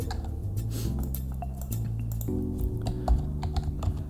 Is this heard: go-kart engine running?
no